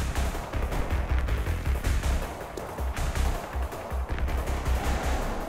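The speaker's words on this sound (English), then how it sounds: "Wait, someone shooting at me." Gunfire in the video game RAGE 2, bursts of rapid shots and thumping impacts repeating irregularly throughout, moderately loud with heavy low-end punch.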